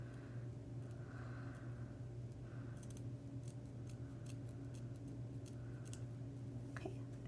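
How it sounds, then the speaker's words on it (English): Scissors snip through thick fur fabric at its base in a series of quiet crisp cuts over a low steady hum. "you want to be really careful when you cut the fur"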